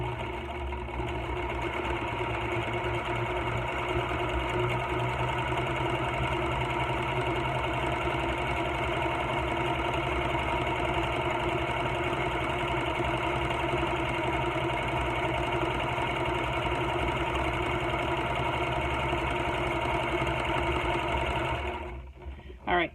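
A sewing machine stitching with twin double needles runs at a steady, fast hum and rattle for over twenty seconds, close and even, then stops abruptly.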